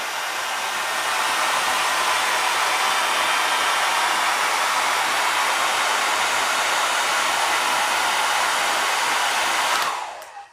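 A hair dryer runs steadily, blowing air to hold a ball suspended in a Bernoulli principle experiment, a loud continuous broadband whoosh lasting about ten seconds before cutting off abruptly.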